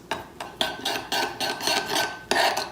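Hoisin and peanut butter being stirred with hot water into a dipping sauce, giving repeated scraping, rasping strokes of a utensil against a bowl, close and fairly quiet, with no talk.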